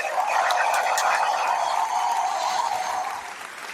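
An audience claps and cheers at a live comedy show, a steady dense wash of applause lasting a few seconds before thinning out.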